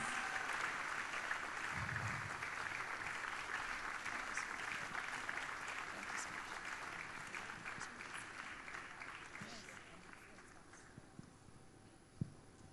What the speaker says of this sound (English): Please, can we all clap for her?